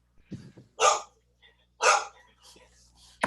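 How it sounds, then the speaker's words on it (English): A dog barks in loud bursts, two strong barks about a second apart among smaller yips, indoors close to the microphone, with quiet human sounds around it. "I'm sorry, the dog's going crazy here."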